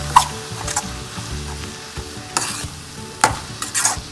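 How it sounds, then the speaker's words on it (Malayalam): Ground black pepper being sautéed in a pan for Kerala-style egg roast with onion, tomato and masala: a low steady sizzle broken by several sharp scraping stirs of a spoon against the pan, with no talking. "കുരുമുളക് പൊടി, നന്നായിട്ട് വഴറ്റണം."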